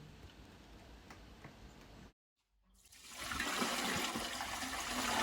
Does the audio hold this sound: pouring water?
yes